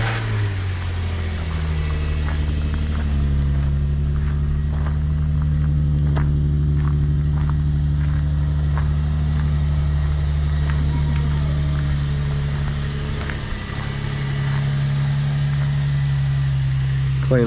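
A Nissan G35 engine turns over and settles into a steady, loud, close idle with a deep droning hum that holds throughout, its pitch shifting slightly partway through.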